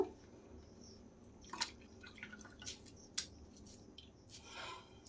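Grated potatoes swished and squeezed by hand in a bowl of water in a home kitchen, giving faint, sparse drips and wet splashes over a quiet background.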